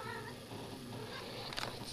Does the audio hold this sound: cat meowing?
yes